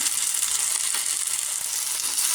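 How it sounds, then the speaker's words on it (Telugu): Spices with garam masala, pepper and chilli powder frying in oil on a low flame, a steady close hiss and crackle of sizzling with no breaks. "లైట్గా ఫ్రై చేస్తాం సిమ్లో."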